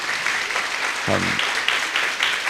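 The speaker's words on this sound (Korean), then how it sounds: "하나님께 영광 박수 한번 드립시다" Congregation applause at a Christmas festival church service after a multi-ethnic youth orchestra performance, a steady wash of clapping with a brief low voice or tone breaking through midway.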